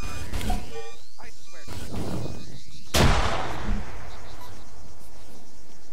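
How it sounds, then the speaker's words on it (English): Video game grenades go off in a multiplayer military shooter, with a sharp loud blast near the middle followed by a decaying rumble, amid earlier gunfire-like bangs and players talking over radio. "There's a random guy just chucking grenades."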